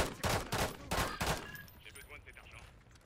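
Rapid gunfire in a video game while sniping: about five sharp shots in quick succession over the first second and a half, followed by fading echo and faint background noise.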